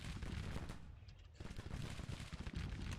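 Video game battle gunfire, a dense, continuous crackle of rifle shots and distant volleys with a brief lull before the firing resumes, fairly quiet overall.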